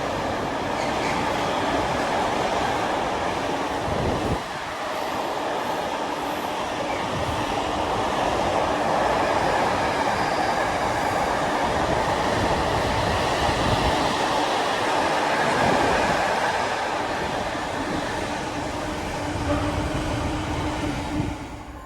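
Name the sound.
Class 66 freight train passing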